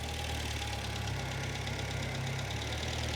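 A 1972 Plymouth Cricket engine runs steadily but rough and stumbling, a loud, close, continuous low rumble with no voices over it.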